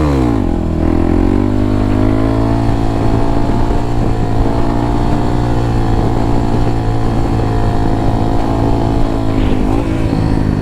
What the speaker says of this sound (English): So listen to the bike, okay? Listen to it.